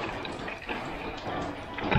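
Water sloshes and splashes in a home aquarium during a water change, with a steady close liquid gurgle and a sharper splash near the end.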